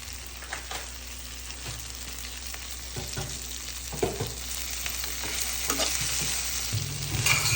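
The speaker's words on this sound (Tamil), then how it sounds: "சூப்பராக வதங்கி இருக்கிற நம்மளோட காலிஃப்ளவர் வதக்கல் தயாராகிருச்சு." Cauliflower sautés with salt and masala in a pan, a soft sizzle under intermittent clacks and scrapes of a spoon stirring, close and fairly quiet, growing slightly louder toward the end.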